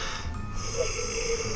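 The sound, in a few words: narrator imitating a yawn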